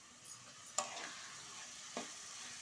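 Tomatoes sautéing in a pan for tomato rice give a faint, steady sizzle, broken by a few soft stirring scrapes and taps, with no voices.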